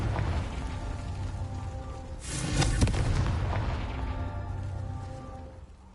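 A Confringo explosive spell blast in Hogwarts Legacy, a single loud burst with a crackling, roaring body lasting about a second, set against a steady game soundtrack drone that fades out afterward.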